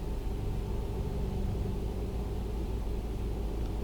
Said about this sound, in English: you can hear the engine brakes going just a little bit now that we're at 48